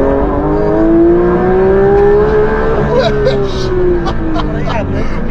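The engine of a newly bought car revs hard toward the rev limiter, like a race car. A loud, sustained engine tone rises and falls over the whole stretch, and excited voices talk over it.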